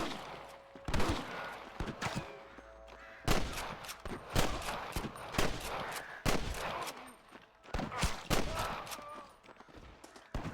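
Sniper and rifle gunfire in the video game Red Dead Redemption on PC, with repeated loud sharp shots cracking in irregular bursts through a gunfight, mixed with voices shouting.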